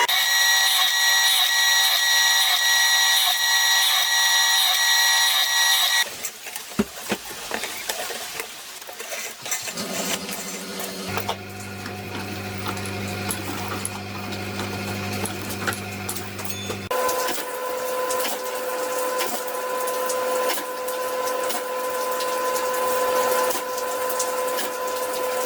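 A power drill bores a row of 1/8 inch holes, spaced every half inch, in a metal sheet for a homemade turboramjet engine part. It gives a steady motor whine in several long bursts, with shifts in pitch between them and workshop clatter.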